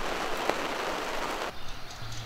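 Rain falls steadily during a small thunderstorm with hail and wind by the Moselle, a dense hissing patter that eases slightly partway through.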